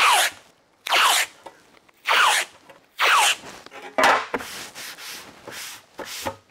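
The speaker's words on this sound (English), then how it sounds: "let's cover it in tape first so we've got something to draw on" Tape is pulled off the roll and laid onto aluminium trim for a Skoda Yeti in a series of loud ripping strips, about six bursts with brief pauses and softer rubbing between them.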